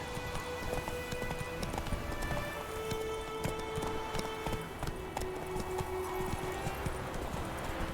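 Horse galloping in The Witcher 3, a steady rapid clip-clop of hooves running close and continuous under a busy game soundscape, with faint voice-like sounds mixed in.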